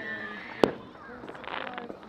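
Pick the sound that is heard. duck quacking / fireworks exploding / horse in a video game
fireworks exploding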